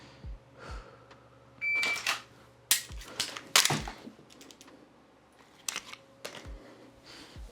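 A handgun magazine swapped during a dry fire reload drill: sharp metallic clicks and clacks in quick irregular bursts as one magazine is pulled and another seated, with quiet pauses between.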